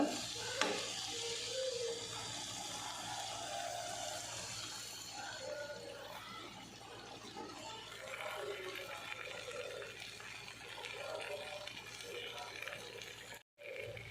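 Mackerel masala fry sizzling in a pan, a steady faint hiss with occasional stirring and scraping, under talk from a nearby speaker.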